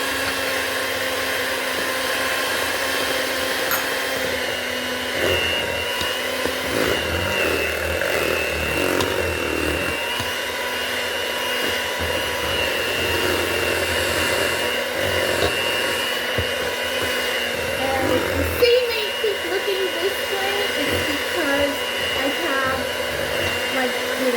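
Electric stand mixer whirring steadily through cheesecake batter in a home kitchen, a constant loud motor drone with slight fluctuations and no talk.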